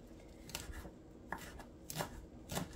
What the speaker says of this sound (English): Nice rough chop.